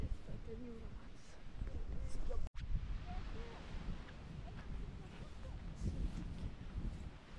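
Seaside wind blowing steadily across the Curonian Spit near Nida in spring, a continuous broadband rush with a short dropout partway through, while faint voices mingle in the background.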